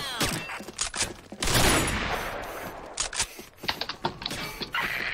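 Gunfire in the video game Combat Arms: rapid clusters of sharp shots and bursts in quick succession, a brief louder volley near the start, then more crisp rattling rounds toward the end.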